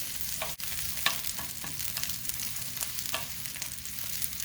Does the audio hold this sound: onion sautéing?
yes